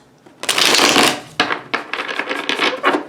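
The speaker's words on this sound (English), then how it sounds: "I'll do a couple more shuffles." Tarot deck shuffled close up, a loud dense riffle of cards followed by several shorter flicking bursts in quick succession.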